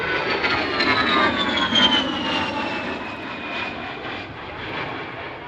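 A low-flying A-10 Warthog jet roars overhead during a Cuban 8 aerobatic maneuver at an airshow. Its steady engine drone sweeps slowly downward in pitch, strong and continuous, with no talking.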